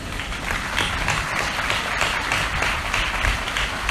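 An audience at a Christian Bible teaching gathering claps together, a dense, even patter of many hands that continues steadily without pause.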